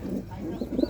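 Pigeons coo close by in soft, low, rounded calls that grow more frequent toward the end of a very short moment.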